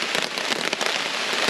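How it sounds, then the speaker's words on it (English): Steady rain patters densely on a shelter over a hammock at a camp, a constant close hiss with scattered sharper drops and no voices. "But we've got rain now, so we're under shelter."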